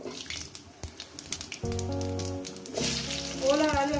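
Potatoes and elephant foot yam fry in a wok with cumin and turmeric, a steady close sizzle that swells louder partway through, with faint clinks of stirring and no talk.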